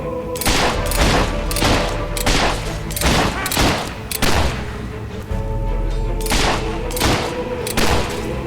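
Sustained battle gunfire in the video game Fable 3, loud rapid shots and heavy booms arriving in dense volleys with brief lulls, over a constant low rumble.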